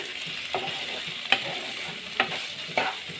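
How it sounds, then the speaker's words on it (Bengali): Eggplant slices sizzle steadily in oil in a covered pan, a soft continuous fry broken by a few sharp clinks and stirring taps, with no talking. "দেখুন সুন্দর ভাজা হয়ে গেছে। ঢাকা দিয়ে ভাজার ফলে যখন একদম ভাজা ভাজা হয়ে যায়"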